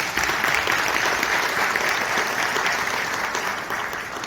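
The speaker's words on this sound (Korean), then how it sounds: "박수 한번 부탁드리겠습니다." A dense, loud wash of audience applause fills a hotel conference hall during an education policy forum in Gyeongbuk, steady throughout and tapering slightly at the end.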